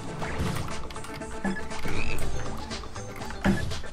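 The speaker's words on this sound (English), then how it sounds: "These frogs are really useful." Frogs croak in Battle Block Theater, a few short low croaks spaced about a second or two apart, close and clear among light game effects and background music.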